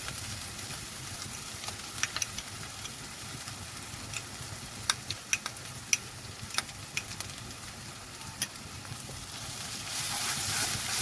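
Onion and poppy seed paste fries in oil in a pan, a soft continuous sizzle with scattered light ticks and crackles, fairly faint and close with no talk.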